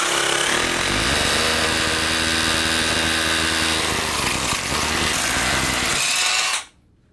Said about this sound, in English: we're going to be using the rotary hammer, making sure it's on both hammer and drill function.